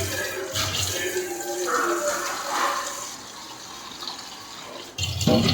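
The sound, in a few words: taking water from a tap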